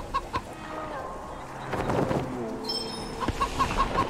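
Clucking of a chicken in Wasteland 3. Short bursts of clucks come at the start and again near the end over a low game backdrop and some murmured voices.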